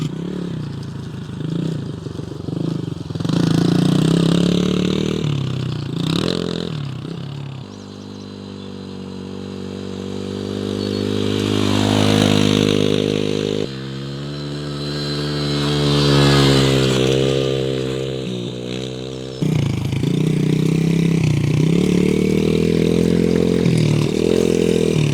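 A small semi-automatic beginner dirt bike ridden by a young kid buzzes nearby, its engine rising and falling in pitch as it revs, fades a little, then passes close again.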